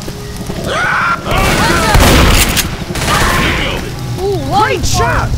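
Rapid gunfire bursts and booming shots from the zombie shooter Left 4 Dead, loud and dense throughout, mixed with game effects and chirping tones, with voices talking over parts of it.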